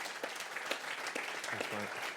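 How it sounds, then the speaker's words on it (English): Applause from a podcast audience, a soft and fairly distant patter of many hands with a brief voice near the end. "Maybe one more big round of applause for those guys."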